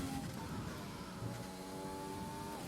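A race car engine in a sim racing game played on a Fanatec wheel drones steadily, with rising and falling engine tones under a dense, constant noise bed.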